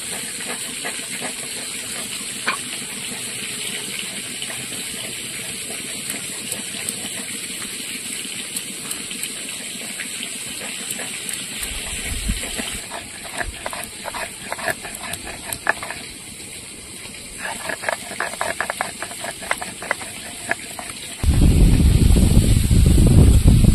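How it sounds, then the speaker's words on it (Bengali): Pumpkin flower fritters fry in hot oil, a continuous close hiss and crackle with scattered pops, swelling into a louder, fuller sizzle near the end; no talking. "এবার বড়াগুলো ভেজে নেব"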